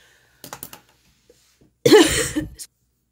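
A few soft clicks, then a single harsh cough close to the microphone, short and loud, followed by quiet.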